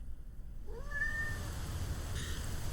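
A single small cat's meow rises and trails off over a low background rumble of rain, fairly faint and alone.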